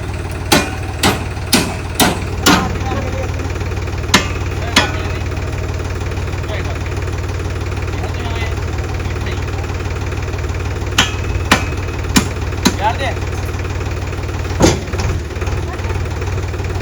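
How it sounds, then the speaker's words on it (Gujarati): A tractor's low, steady engine idle rumbles throughout, with sharp clicks and knocks scattered over it and faint background voices. "માટી ભરીને ટ્રેક્ટર આવી ગયું હતા"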